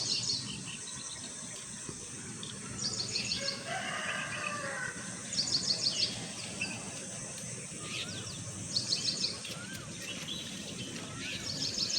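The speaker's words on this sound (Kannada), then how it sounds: "ಅಕ್ಕಿ ಪಕ್ಷಿ ನೋಡ್ಬೋದು ನೀವು ಎಷ್ಟು ಚೆನ್ನಾಗಿ ಸೌಂಡ್ ಮಾಡ್ತವೆ" Birds chirp and sing outdoors in soft morning sunshine. Short bright bursts of calls recur every few seconds over a steady insect hum and faint background activity, with no one speaking.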